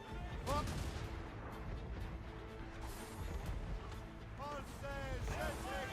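Ship cannons firing in Assassin's Creed Rogue, booming blasts amid battle noise with shouted voices over them.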